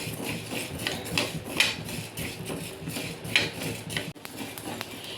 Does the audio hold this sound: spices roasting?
yes